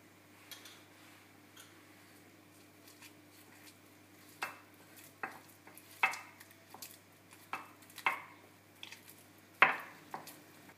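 Chopped parsley and butter being pounded together for garlic bread, a series of soft irregular knocks and scraping taps of a utensil in a bowl, quiet and close with no talking.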